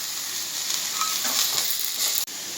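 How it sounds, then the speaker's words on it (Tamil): Beans and peas sauté in a pan with oil for a vegetable idiyappam, giving a loud, even, close sizzle with a faint stirring touch and a brief dropout near the end. "இப்போ வதங்கிக்கிட்டு இருக்கு."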